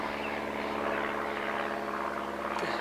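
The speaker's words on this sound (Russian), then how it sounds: "Самолетик полетел." A small airplane flies overhead near an old church, its propeller engine droning steadily with an even tone, fairly loud and unbroken, with no talking.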